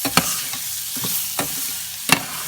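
Rice and white onion sizzle while being stirred in a hot pan, a steady frying hiss broken by four or five sharp scrapes of the spoon against the pan, close and alone.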